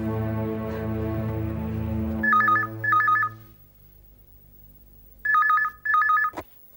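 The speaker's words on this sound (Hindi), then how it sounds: "भाभी प्लीज फोन उठाइए।" A landline telephone rings in two paired bursts of an electronic trill, loud and close, following a fading musical drone, with a click at the end.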